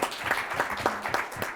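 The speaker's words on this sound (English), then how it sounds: "Please give them a round of applause" Brief burst of audience applause at a panel discussion on the global economy, steady clapping at moderate level with no one speaking.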